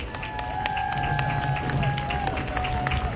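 A parade crowd claps in welcome as a Korean Air flower float passes the main stand, a dense steady patter of applause mixed with a sustained tone and background voices.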